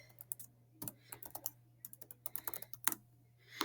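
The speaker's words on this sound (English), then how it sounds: "So I'm going to just type, this is my doc for time's sake." Quick, irregular key clicks tap away on a computer keyboard, close and fairly quiet, in short bursts with small gaps and no voices.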